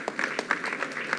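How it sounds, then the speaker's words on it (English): An audience applauding at the launch of the Ogoniland clean-up in Nigeria, a brief burst of steady clapping from a crowd with a voice faintly mixed in. "Please put your hands together for her."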